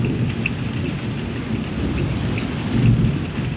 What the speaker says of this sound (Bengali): এই দেখো কেমন করে মেঘ ডাকছে, আওয়াজ তো শুনতেই পাচ্ছ তোমরা